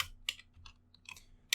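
Typing on a computer keyboard: a handful of sharp, close key clicks in an irregular rhythm against a quiet room with a faint electrical hum.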